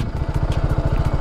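A TVS Apache RR310 sports bike engine runs close by with a rapid, even low thumping pulse at idle and steady loudness, with no talking over it.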